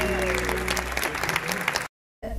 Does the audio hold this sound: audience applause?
yes